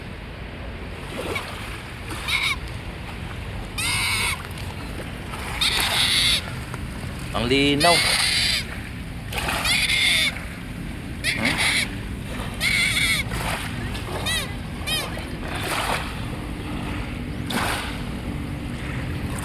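Waves lap against the dolomite shore of Manila Bay in soft, repeated washes, with a person talking closely over the water throughout.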